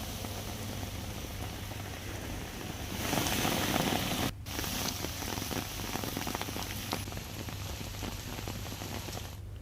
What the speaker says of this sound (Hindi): मूसलाधार बारिश की वजह से नदी नाले उफान पर हैं